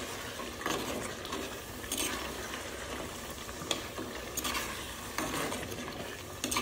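Boiled goat trotters are stirred into a spicy black masala gravy in a pan: close, repeated scraping and stirring strokes with soft sizzling and sharp clicks of the spoon against metal.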